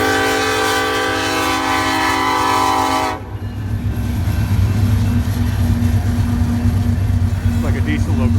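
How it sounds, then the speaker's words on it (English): A loud train horn blares, then cuts off as a heavy diesel freight train rumbles past nearby with a deep, steady engine drone and rail noise. "Big old freight train."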